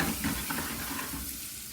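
Fennel sizzles in a pan over very high heat, a steady close frying hiss with light stirring scrapes running through the whole stretch and no talk.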